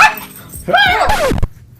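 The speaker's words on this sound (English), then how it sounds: "Control your dog." A dog lets out a short burst of yipping, whimpering barks close by, loud and over within about a second.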